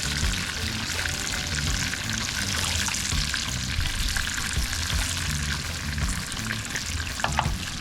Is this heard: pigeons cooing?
no